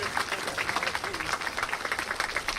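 Sustained applause from a crowd honoring teachers and staff at a school ground-breaking ceremony, steady dense clapping at moderate distance with some voices mixed in.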